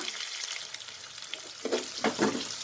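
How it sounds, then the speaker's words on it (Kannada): Two medium onions fry in a pan, a steady close sizzle that swells with a few louder bursts of crackling as they are stirred, with no talking. "2 ಆನಿಯನ್ ತೊಗೊಂಡಿದ್ದೀನಿ, ಮೀಡಿಯಮ್ ಸೈಜಿಂದು. ಸ್ವಲ್ಪ ಫ್ರೈ ಮಾಡ್ಕೊಳ್ಳೋಣ."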